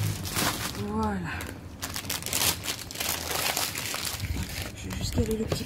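Paper packaging crinkles and rustles as a diamond-painting storage box is unpacked outdoors on a breezy day, the crumpling running steadily throughout under intermittent talk.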